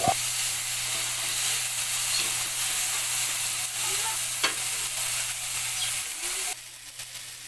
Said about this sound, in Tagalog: Igisa ang bawang, sibuyas at kamatis.